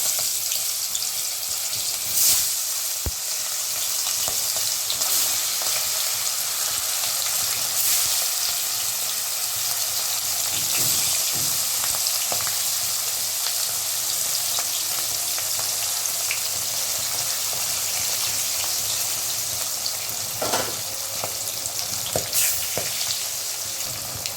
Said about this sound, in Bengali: এবার আমি মাছগুলো আস্তে আস্তে ছেড়ে দেবো।